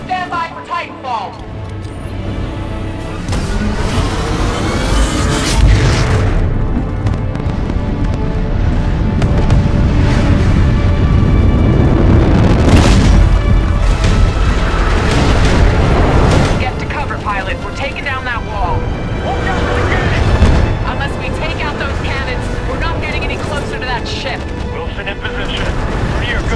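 Titan mech plummeting from orbit and slamming down in Titanfall 2 gameplay: a long, loud roaring rumble with booming impacts and explosions through the middle, layered under battle noise, music and radio voices.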